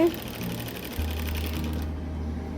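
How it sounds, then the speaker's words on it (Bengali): Sewing machine stitching at home, a continuous low mechanical whir with rapid rattling under a brief snatch of talk. "আমি সেলাই করতেছি"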